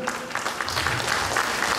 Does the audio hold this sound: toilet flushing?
no